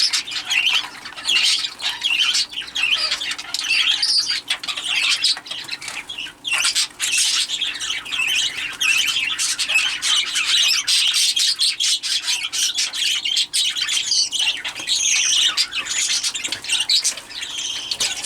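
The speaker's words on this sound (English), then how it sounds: "So Haverty had 3 chicks of his own in here, who are all the little spangles" Budgerigars in a breeding aviary, spangle chicks among them, fill the space with dense, loud, continuous squawking and chirping alongside occasional wing flutters, a constant close chorus with no voices.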